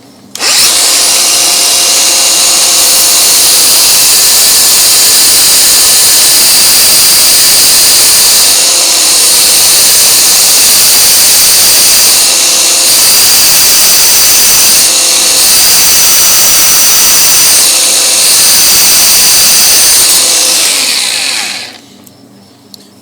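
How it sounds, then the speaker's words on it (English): A power sander runs steadily and loudly on an old bolt, rounding the corners where the points meet the faces, with slight dips in pitch as pressure shifts, before cutting off near the end. "bring the sander around just over the corner, just to give a bit of rounding to the points where they join the faces"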